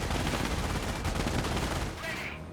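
A machine gun bunker in Company of Heroes rattles off dense, sustained bursts of automatic fire, loud and continuous with overlapping battle noise.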